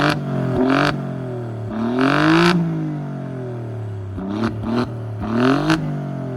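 Several sharp throttle blips from an Alfa Romeo Giulia Quadrifoglio's twin-turbo 2.9-liter V6 through a quad exhaust, each rev rising and falling quickly, close and loud with brief idle between bursts.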